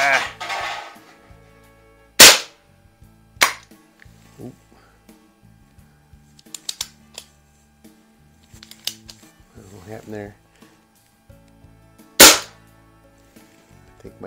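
Crosman model 600 .22 calibre CO2 semi-automatic pellet repeater firing, with sharp, loud cracks spaced a second or more apart and light handling clicks and rattles between them.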